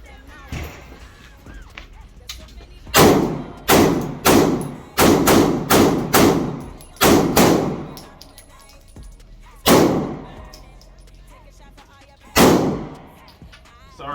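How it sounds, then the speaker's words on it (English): Rifle shots from an AR-15 at an outdoor gun range: a quick cluster of about nine loud, sharp reports, then two more single shots spaced apart, with faint talk in between. "Take the safety off and shoot."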